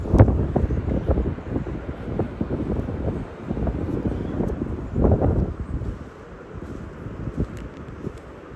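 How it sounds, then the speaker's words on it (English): Strong wind on the Texas coast before Hurricane Beryl buffets the microphone in continuous roaring gusts, surging and easing over several seconds with no voices. "I hope you can hear me because it's very windy"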